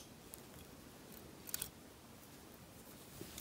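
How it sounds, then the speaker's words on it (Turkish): Scissors snip through crochet yarn in a quiet room, a couple of brief, soft cuts near the middle. "Bir zincir çekiyorum ve ipi kesiyorum."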